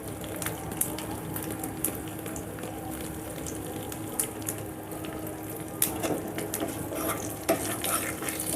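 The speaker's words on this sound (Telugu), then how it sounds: "ఇంగువ, 2 రెమ్మల కరివేపాకు, తాలింపు అంతా వేగిపోయిందండి" A tempering of asafoetida and curry leaves sizzles and fries in a pan, with steady crackling and a few sharp pops and stirring clinks throughout, fairly quiet and close.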